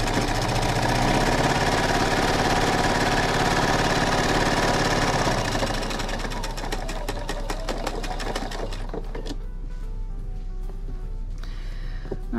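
Sewing machine chain stitching flannel squares for a baby rag quilt, a steady loud mechanical whirr for about five seconds that then eases into lighter, rapid stitching clicks and pauses.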